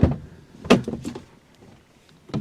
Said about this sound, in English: Heavy door.